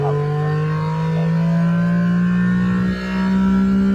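A Honda Beat in a video game pulls hard in first gear, its engine note climbing steadily and loudly over four seconds, with no one talking.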